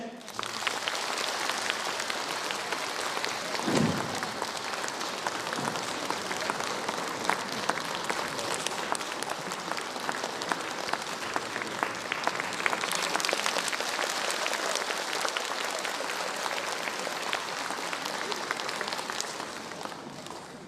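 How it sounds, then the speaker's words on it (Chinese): Warm concert-hall applause greets a renowned Chinese orchestra conductor at an anniversary concert, a sustained wash of many clapping hands from a large audience, steady throughout with a brief low thump near the start. "下面就让我们以热烈的掌声，请出享誉国内外乐坛的著名中乐指挥家严会昌先生"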